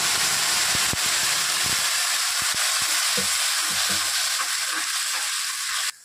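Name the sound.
ground spice paste frying and being stirred in pan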